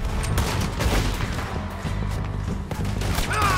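Gunfire erupts in the Western action game Red Dead Redemption 2, a busy volley of overlapping shots and crashing impacts over a rumbling game score, steady and fairly loud for the whole stretch.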